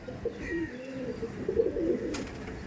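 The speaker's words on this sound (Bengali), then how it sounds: "এটা ম্যাড্রাসি পেয়ার দেখাচ্ছিলাম কত সুন্দর ম্যাডাসি পায়রা দেখুন" Madrasi pigeons coo at a pigeon keeper's loft in Howrah, with soft, rolling low coos repeating in loose bursts, close and fairly quiet over a faint background hiss.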